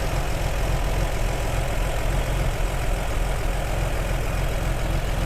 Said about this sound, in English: my dad's over here checking the timing on his 54 Corvette, and this is just always something cool to see and hear run